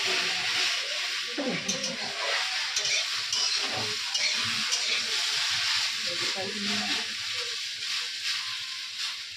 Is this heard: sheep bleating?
no